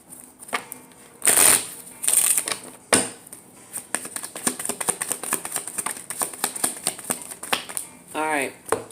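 Divination cards being shuffled and handled at close range, with quick riffling bursts and scattered soft snaps and taps of card stock, under intermittent talk.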